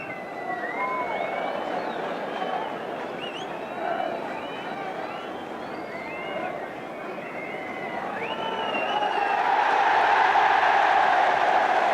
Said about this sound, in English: Final roar from the crowd